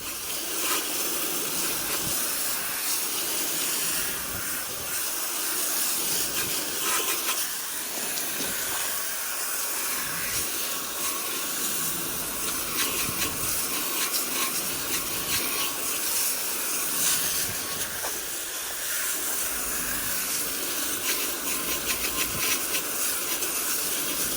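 Sanded car wheels sprayed down with water before painting, giving a steady loud hiss of spray that runs without a break from start to finish.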